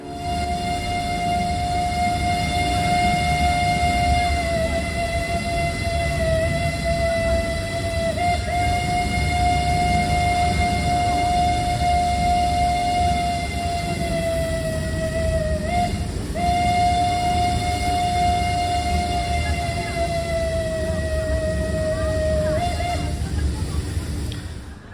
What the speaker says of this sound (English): that is the Mount Washington Cog Railway.